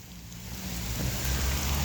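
Steady rain falls outdoors in Britain, a dense hiss of drops on surfaces with a low rumbling wind-like undertone, continuous and growing slightly louder throughout.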